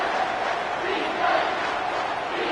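Football stadium crowd roaring steadily on a third down, a dense continuous wall of cheering and shouting from a large audience, loud and sustained.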